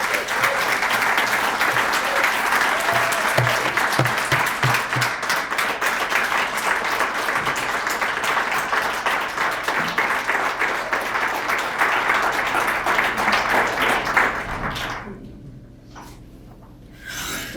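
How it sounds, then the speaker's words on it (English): An audience at an annual meeting breaks into sustained applause, a dense, steady wash of many hands clapping for about fourteen seconds before it fades out and the room goes quiet. "I'd like to give her another round of applause"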